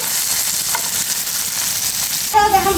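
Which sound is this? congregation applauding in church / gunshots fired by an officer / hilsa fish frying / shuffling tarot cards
hilsa fish frying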